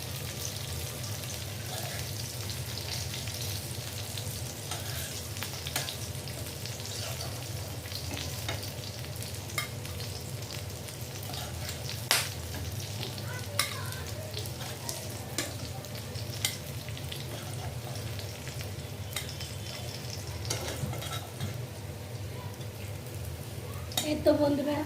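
Jhatka fish from the Meghna river frying in oil, a steady crackling sizzle running throughout with occasional louder pops and spatters, close by and continuous.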